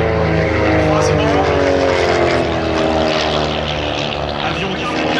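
Propeller aerobatic planes flying as a duo at an air show in Cambrai, with a loud, steady droning engine roar throughout and a commentator talking over it.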